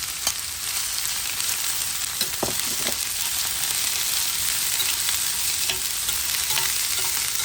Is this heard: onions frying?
yes